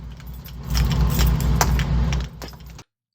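Keys jangle close up in a steady metallic rattle over a low engine rumble inside a car, lasting nearly three seconds before cutting off abruptly.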